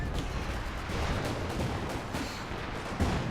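Regular mortar teams firing in the video game Company of Heroes 2, a dense continuous rumble of distant battlefield blasts and gunfire with no clear single shots, steady and moderately loud.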